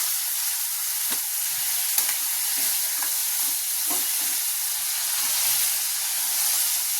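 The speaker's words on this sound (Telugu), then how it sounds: "తర్వాత కట్ చేసుకున్న టమాటా వేసుకొని కలుపుకుందాం." Chopped tomatoes sizzle steadily in hot oil with curry leaves and turmeric, a continuous hiss broken by soft, occasional scrapes of a spoon stirring the pan.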